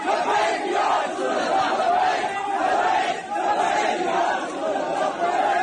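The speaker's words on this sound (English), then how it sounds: "crowds of Muslims then gather in Pakistan and shout slogans like Labbaik Ya Rasulallah" A large crowd of Muslims in Pakistan shouts religious slogans in unison, a loud, dense, continuous mass of chanting voices that rises and falls slightly without pause.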